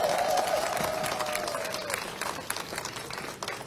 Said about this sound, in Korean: 두 분 향해서 큰 격려의 박수 한번 부탁드리겠습니다